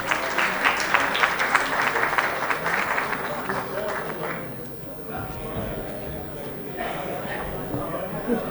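Audience applause fills the opening ceremony of the Pakistan Mother Languages & Literature Festival, dense and steady for several seconds before thinning out, with a voice talking over it.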